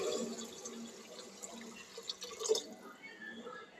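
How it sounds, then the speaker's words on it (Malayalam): Water being poured over rice in a pot for Kannur-style ghee rice gives a faint, soft trickle with a few light drips, quiet and close, with no talking. "അപ്പോൾ നമുക്കിവിടെ വെള്ളം ഒഴിച്ചു കൊടുക്കാം."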